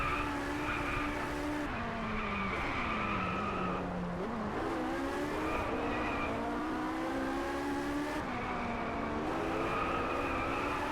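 A racing car in Driveclub revs and accelerates hard, its engine pitch climbing and dropping through gear changes alongside tire squeal, loud and continuous without pauses.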